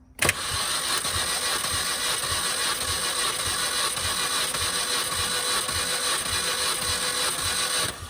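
A 2005 Mini Cooper S engine cranks steadily on the starter during a compression test, a close, continuous rhythmic chugging without firing that runs for about eight seconds.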